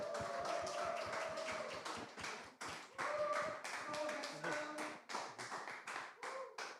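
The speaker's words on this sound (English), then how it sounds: "Let's give him a big applause." A small audience claps for a speaker at a Seoul tech conference on Web3 and AI. The claps are quiet, scattered and uneven, and voices and other tones sound underneath.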